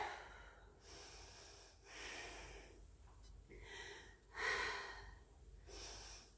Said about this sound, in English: Take a couple of deep breaths there